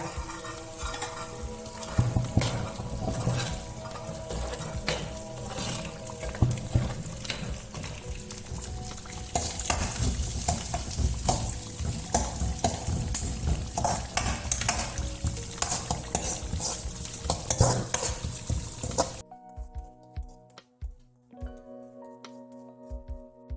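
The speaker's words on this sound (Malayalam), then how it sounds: "നാലഞ്ച് കായം മുളക് ഇടുന്നുണ്ട് ഇത് ചോക്ക വറക്കണം" Red chillies and asafoetida fry in hot oil for a Kerala prawn theeyal while a spoon stirs and scrapes the pan, a steady close sizzle with rhythmic clinks and scrapes that stops abruptly near the end.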